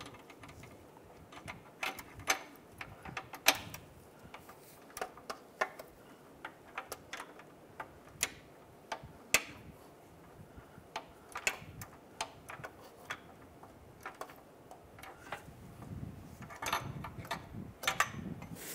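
An O2 sensor being tightened by hand on a Cadillac DTS, a fairly quiet series of irregular metallic ticks and ratchet-like clicks running throughout with faint background noise.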